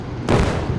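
A bike explodes in the Indian bike video game, one sudden broadband blast that cuts in and lingers briefly as a loud rumble, with no voices over it.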